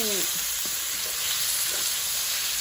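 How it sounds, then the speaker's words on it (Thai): Pork fries in a pan while being stirred, giving a loud, even hiss of sizzling with a few faint scrapes and a brief tonal squeal at the start, no voices. "คนหมูให้สุกก่อนนะคะ"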